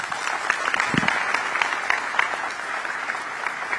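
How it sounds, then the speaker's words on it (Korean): Audience applause fills a Korean expatriate community gathering with the president in Singapore, a dense, steady wash of many hands clapping at even loudness throughout, with no voices over it. "다시 한번 큰 박수 부탁드리겠습니다."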